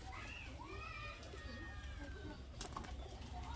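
Pigeons cooing faintly in a loft among young pigeons, soft warbling calls under nearby voices and a steady low background hum.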